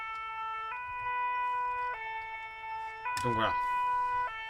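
Fire engine siren from a Farming Simulator 17 mod, a two-tone wail alternating steadily between high and low pitches and continuing throughout, with someone speaking briefly over it partway through.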